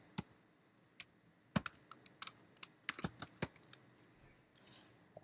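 Irregular clicks of typing on a computer keyboard in a quiet room, light taps scattered in uneven bursts with a few sharper keystrokes, no voices.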